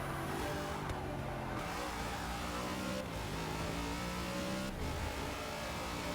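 A race car engine roars steadily in Forza Motorsport 6 at Bathurst, revving with rising and falling pitch as gears shift, loud and continuous throughout with no talk.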